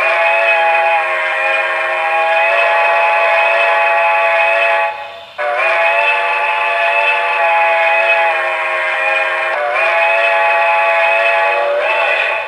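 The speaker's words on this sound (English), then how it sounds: "You can quill the whistle" A Broadway Limited M1B model train's whistle blows in long, loud, sustained chime tones, with a brief break near the middle. The pitch bends slightly as the whistle is quilled toward the end.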